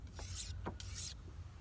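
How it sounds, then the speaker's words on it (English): A filleting knife is drawn across a wet whetstone in two long rasping strokes, each running from tip to heel, close and steady, with short gaps between them. "Each side, start the tip, just work your hand down."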